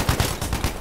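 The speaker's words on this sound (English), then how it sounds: "I'm shooting here." Rapid gunfire in the Battlefield V video game, a short burst of several close, punchy shots in quick succession.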